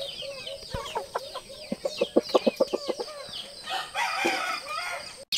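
Gamefowl roosters at a breeders' sale in Mindoro, heard up close as a run of sharp rhythmic clucks that builds into a loud, drawn-out crow, with no one talking.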